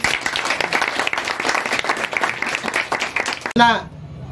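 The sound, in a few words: audience applause at anniversary event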